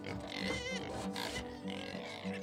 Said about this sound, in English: In the background you hear the pigs.